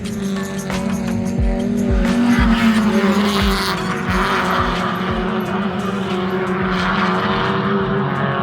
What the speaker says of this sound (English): So straight into an onboard lap of the Mallala circuit.